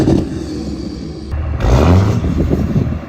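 A 2017 6.7 Cummins truck with a Spelab 5-inch turbo-back straight pipe exhaust rumbles close by with a deep, rough idle that swells briefly as the throttle blips.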